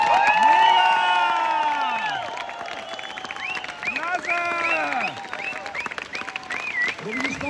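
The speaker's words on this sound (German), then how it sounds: "den größten Jubel des heutigen Abends für den unfassbar wunderbaren" A crowd at an open-air jubilee concert on a town square applauds and cheers loudly for a performer. Whistles and whoops rise over dense clapping, which fades gradually while a voice talks over it.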